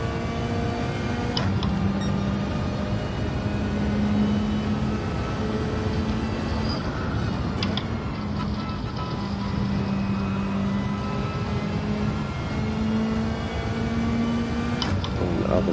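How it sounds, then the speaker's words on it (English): A Lancia Stratos with a Ferrari Dino V6 engine droning steadily in a racing video game on the Laguna Seca track, the engine tone holding and shifting in pitch with brief gear-change blips, no talking heard. "Lancia, the Stratus actually has the Ferrari Dino V6 in it."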